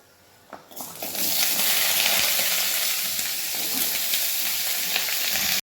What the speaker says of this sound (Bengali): শাকটাকে এবার এই তেলটার মধ্যে দিয়ে নেব